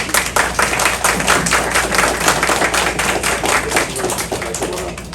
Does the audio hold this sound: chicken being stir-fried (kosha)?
no